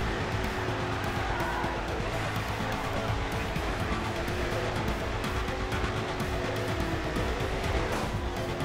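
Race car engine in GRID 2 with an overheating motor and a damaged radiator, roaring steadily and loudly throughout with tire noise layered in, no pauses.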